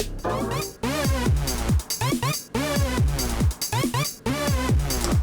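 Bright, swelling Roland Alpha Juno synthesizer chords with sliding, sweeping pitches repeat in a rhythmic pattern, played alone without voices.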